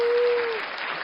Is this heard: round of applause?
yes